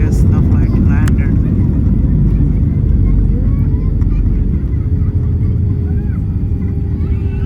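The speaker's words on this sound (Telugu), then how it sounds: "So the flight is landing in knees airport in the France." Loud, steady roar of an airliner landing at Nice airport in France, heard from inside the cabin as a continuous low rumble, with a voice talking over it.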